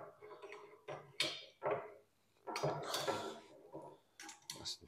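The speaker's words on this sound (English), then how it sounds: "We then do up this compression fitting nice and tight." Spanner tightening a compression fitting on copper pipe, a series of short, close metallic scrapes, clicks and grinding turns in quick bursts with brief quiet gaps, fairly faint.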